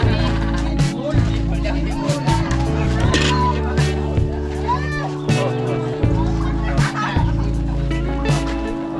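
Chickens clucking and calling at a birthday celebration, heard over busy background chatter including children's voices and steady low noise throughout.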